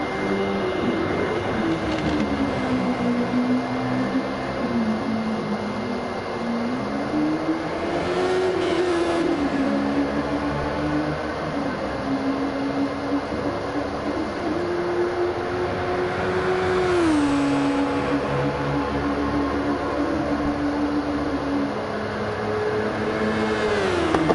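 Several race cars sit idling in the pit lane before qualifying at Suzuka in a Super Formula racing video game, a steady engine drone with a rising and falling pitch that continues without a break for the whole stretch.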